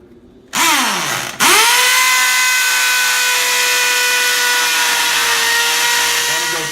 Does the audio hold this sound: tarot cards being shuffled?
no